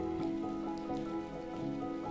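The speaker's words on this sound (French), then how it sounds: "Prends bien le temps de ressentir cette pluie fine" Fine rain falls steadily, a soft continuous patter of small drops on a surface with no voices.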